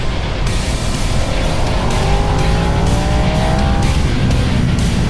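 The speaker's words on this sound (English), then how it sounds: "I keep forgetting how high these RPMs go on these Desmo Ducatis" A Ducati Panigale V4S Desmo engine revs hard to very high RPM, a loud, close, continuous high-pitched howl rising and falling over wind roar on a winding road in Romania.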